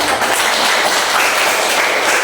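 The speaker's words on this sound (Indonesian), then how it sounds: "sekali lagi kita tepuk tangan bersama" A classroom group claps together after praise for their group work, a dense, steady patter of hands that fills the short stretch from start to finish without pause.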